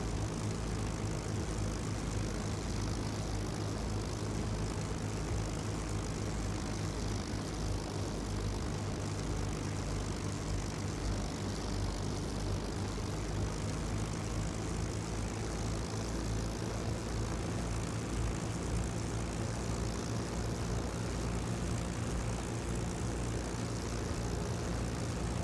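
Propeller fighter aircraft taxiing in the flight sim IL-2 Great Battles, a steady, droning engine rumble at moderate level, unbroken for the whole stretch with no voices.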